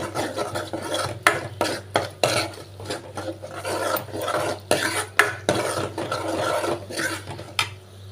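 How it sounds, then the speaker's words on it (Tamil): Garlic is sautéed in masala for a village-style garlic kuzhambu, with rapid, repeated spatula scraping against the pan over a low sizzle, close and busy throughout. "அந்த மசாலா கூடையே சேர்த்து அப்படியே அந்த பூண்டையும் நல்லா வதக்கிக்கிறாங்க"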